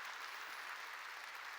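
A church congregation applauding, a dense steady patter of many clapping hands at moderate distance, continuous and even with no voices on top.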